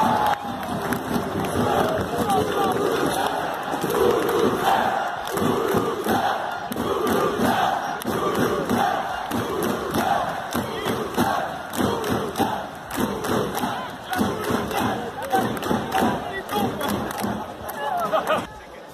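A packed stadium crowd at a Toulouse rugby match roars and chants after a try, a sustained loud wall of cheering and shouting with rhythmic surges and pounding beats throughout.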